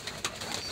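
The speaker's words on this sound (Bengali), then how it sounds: "এটা দেশীয় জাতীয় কবুতর," Native breed pigeons cooing, a soft, close coo with a brief burst of louder calling in the middle, set against faint background noise in a short snippet.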